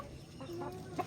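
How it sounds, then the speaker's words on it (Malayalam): Hens cluck in a few short, soft calls while running about a home yard, fairly faint and close, with one sharper squawk near the end. "ആ പെടകളൊക്കെ ഓടൂടാ"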